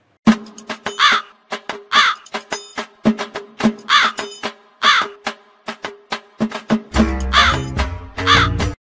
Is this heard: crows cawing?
yes